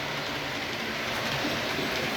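An OO gauge model steam locomotive runs on a garage layout, giving a continuous close rumble and whirr of wheels on track with no talk over it.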